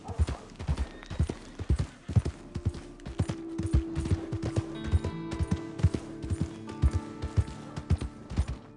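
A horse's hooves clip-clop at a steady trot in the Red Dead Redemption 2 game around Valentine, heard as close, even, rhythmic thuds with a faint tonal hum rising in the background and no talk.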